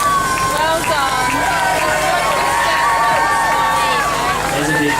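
A crowd cheers at the finish of the Rottnest Channel Swim, with a steady, loud wash of voices, whoops and shouting running the whole time and no pause.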